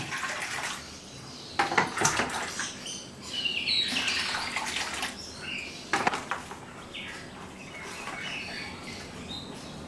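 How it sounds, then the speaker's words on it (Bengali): Two litres of water pour into a steel bowl with a steady splashing rush that swells in bursts, while birds chirp and tweet close by. "এর জন্য আমি এই স্টিলের গামলাতে 2 লিটার জল নিচ্ছি।"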